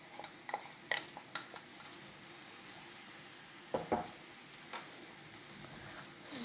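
Garlic paste is stirred into sizzling jollof rice, with a quiet, steady fry and scattered utensil scrapes and taps against the pot, and no one speaking.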